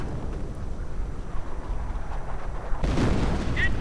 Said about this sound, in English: Mine goes off.